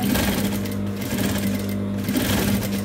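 A sewing machine stitches back and forth to secure an angled fabric corner. The loud, close motor hum runs steadily, with short dips where the stitching direction reverses.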